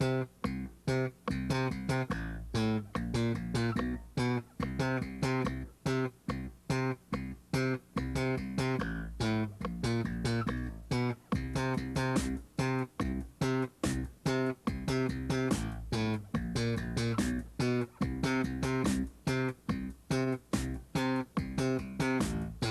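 Slap bass line mixing long sustained notes with short clipped ones, a steady run of sharp percussive thumb and pop attacks over about twenty seconds, loud and close with no talking.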